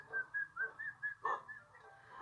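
A person whistles to a bird in a series of short, bright repeated notes, about eight evenly spaced chirps with one louder, rougher burst midway, fairly quiet and close.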